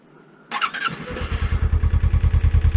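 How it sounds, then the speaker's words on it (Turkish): A cold motorcycle engine starts and settles into a steady, loud, close idle with an even throbbing pulse as it warms up. "Biraz soğuk motorun ısınmasını izin vereyim."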